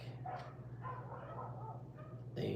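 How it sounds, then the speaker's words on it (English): Neighbouring dogs bark and yip at a distance over a steady low hum, in several muffled bursts that grow louder at the end. "Sorry if you're hearing the neighbor's dogs right now. They're being a little loud and obnoxious"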